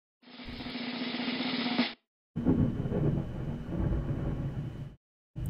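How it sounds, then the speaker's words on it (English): Thunder from a real storm outside rumbles in two long, loud bursts, the first a steady roar and the second a rolling, uneven boom, with a short silence between them. "Did you guys hear the lightning?"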